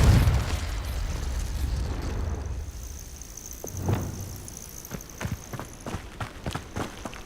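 A Confringo fire-spell explosion in Hogwarts Legacy bursts loudly at the start with a deep boom, then decays into rumble, followed by scattered crackling impacts and footstep-like thuds.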